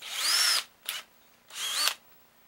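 A power drill with a 1/16-inch bit whines in two short bursts while drilling a pilot hole, rising in pitch as it spins up, with a brief clack between them.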